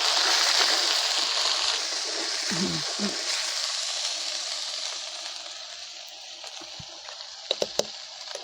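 Roasted onion and tomato paste frying in a pan, a continuous hiss and sizzle that gradually softens, with a couple of low thuds and a few sharp clicks toward the end.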